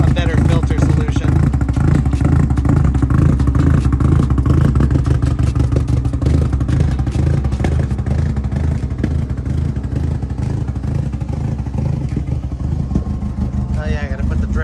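Datsun 510 engine idling through velocity stacks, a loud, steady, throbbing low rumble with a slightly uneven pulse that holds constant from start to finish.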